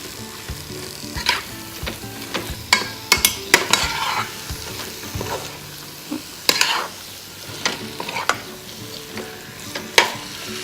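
Chicken red curry stirred and sizzling in a pot for Lao khao poon noodles, with a spoon repeatedly scraping and clinking against the pot over steady frying, close and fairly loud, no talking.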